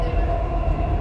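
A moving train gives a loud, steady, low rumble with no breaks, heard close by.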